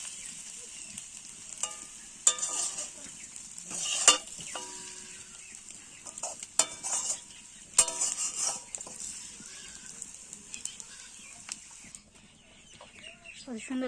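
Potatoes and eggs with ginger paste and spices frying in a pan, a soft steady sizzle with scattered stirring scrapes and taps, close and moderately quiet, with occasional brief voices.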